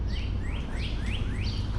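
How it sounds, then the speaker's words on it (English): A northern cardinal repeats a run of rising, slurred whistled notes, about five in steady rhythm, clear above a constant low rumble of background noise. "that was a cardinal"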